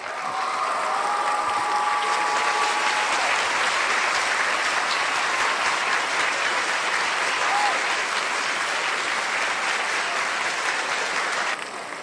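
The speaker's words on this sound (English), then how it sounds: "So a big Earthkeeper round of applause for Hugh Newman," Sustained, dense audience applause at a talk on megaliths and ancient history, steady and full for about twelve seconds before tapering at the very end, with no one speaking over it.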